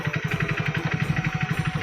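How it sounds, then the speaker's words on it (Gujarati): A tractor engine idles nearby with a quick, even thumping pulse, a steady mechanical chugging at moderate volume with no other sounds over it. "ફાઇનલી આપણું ટ્રેક્ટર આવી ગયું છે"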